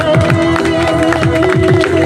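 Crowd at a company team outing clapping and cheering loudly in rhythmic bursts, with voices and a tonal hum running underneath.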